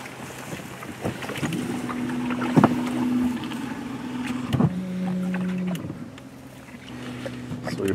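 A boat heading out onto a lake on a fishing trip for catfish and carp, with a low steady motor hum, wind buffeting the microphone and occasional knocks, alongside some talking.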